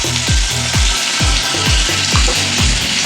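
Turmeric and ginger paste sizzle loudly in hot oil in a pan while a Bengali sponge gourd dish is cooked, a steady frying hiss broken by regular low thumps of stirring, with no voices.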